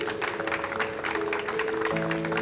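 A crowd applauding at a badminton tournament's welcoming ceremony, dense steady clapping throughout with a sustained tonal hum or music underneath.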